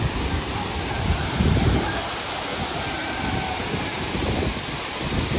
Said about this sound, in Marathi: हा बघा सावडाव धबधबा